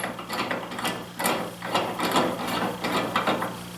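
A drill press hold-down clamp is screwed tight against the work, its threaded mechanism giving a rapid run of ratcheting clicks in several close, bursty strokes with no talking.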